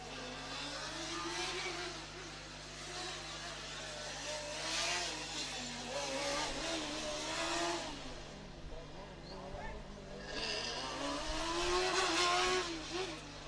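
A Formula Student race car runs an autocross circuit, its engine rising and falling in pitch as it accelerates and brakes through corners, heard from a moderate distance with a steady low hum in the background.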